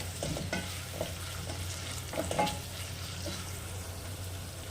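Ginger garlic paste frying in a pan for mushroom curry, stirred with a few scraping strokes over a steady close sizzle.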